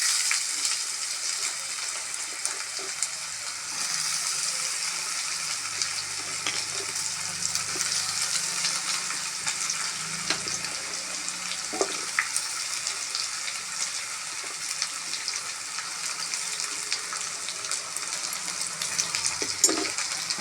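Potato pieces fry in oil in a pan, a continuous dense hiss that holds at one level for the whole stretch, with a few faint clinks and stirs and no voices.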